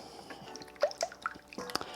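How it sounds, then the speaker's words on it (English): Strata breakfast casserole ingredients with nutmeg being mixed together in a bowl make soft wet squishes and small drippy splats in an irregular rhythm, close and fairly quiet, with no talking. "we're gonna mix that all together"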